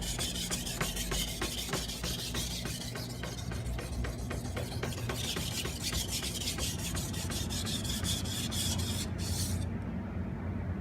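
Steel knife blade scraping on a whetstone during sharpening, a steady close-up rasping rub in repeated strokes that runs without pause and cuts off near the end.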